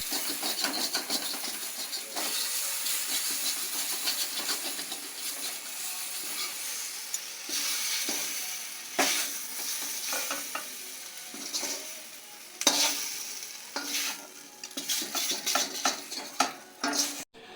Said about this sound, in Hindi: तो मैं इसे पलट देती हूँ और फिर बंद करके एक बार और थोड़ी देर के लिए पका देती हूँ